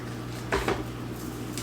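Dishware set down on a surface gives two quick, muted clinks against a steady background hum, with no speech.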